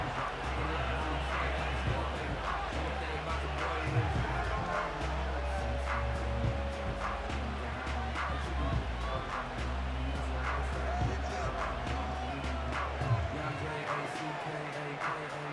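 A stadium crowd in the Madden 25 football video game, Bengals versus Ravens, gives a continuous roaring murmur with scattered cheers and thuds, sitting under a play-by-play commentator's voice throughout.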